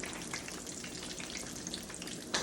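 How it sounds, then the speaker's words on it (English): Eggplant slices fry in a pan with a dense, continuous sizzle and crackle, close and steady throughout, with a sharp tap right at the end. "as you watch those frying"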